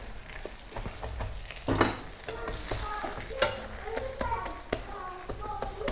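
Chapati sizzles softly in a pan with scattered scraping and tapping sounds, a voice speaking faintly in the background.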